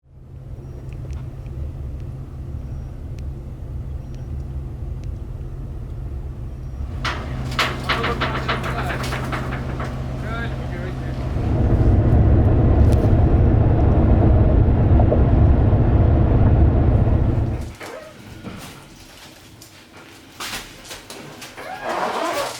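A 1956 Buick Century engine in a garage cranks over and catches, then runs with a loud steady rumble that swells midway and drops away near the end.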